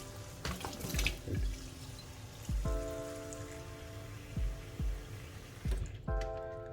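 Tap water runs into a container holding shoelaces. Bursts of splashing stream start and stop several times, close by and fairly quiet, with no voices.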